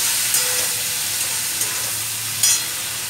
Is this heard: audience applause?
no